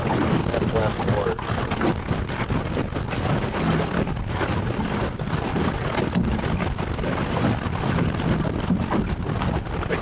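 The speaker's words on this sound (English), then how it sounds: "there, I felt a gust" Steady wind gusting and buffeting the microphone aboard a catboat under sail, with water wash and hull noise mixed into a constant loud roar.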